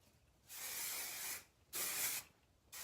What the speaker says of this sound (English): I would hit it one more time with the hairspray just to make sure they hold